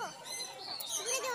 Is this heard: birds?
yes